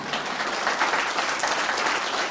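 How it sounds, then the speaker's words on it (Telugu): A crowd at a public gathering applauds steadily, a dense continuous wash of clapping held at a loud even level for the whole stretch. "ఒక 30 లక్షల పుట్టిన చప్పట్లు కొట్టారా?"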